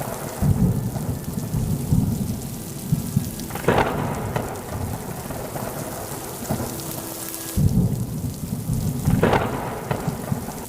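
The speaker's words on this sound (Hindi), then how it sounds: "तभी तेज बारिश शुरू हो गई।" Steady heavy rain pours down while deep thunder rumbles and cracks nearby, rolling in twice over the downpour.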